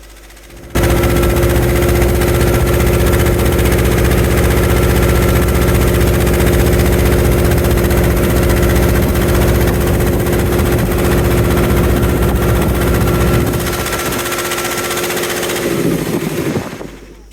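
A fishing trawler's engine drones loud and steady at sea on the stormy Bay of Bengal, a constant mechanical hum with a clattering rhythm that holds for most of the stretch before easing slightly near the end.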